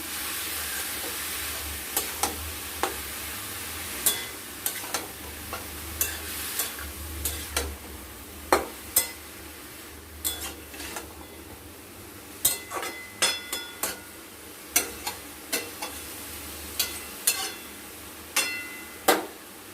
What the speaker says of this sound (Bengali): দিয়ে এবার এটাকে ভালো মতো করে নাড়াচাড়া করবো